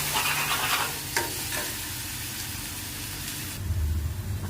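Onions stirred and fried in a pan for a liver masala, a close, steady sizzle with scraping stir strokes, alone without talk.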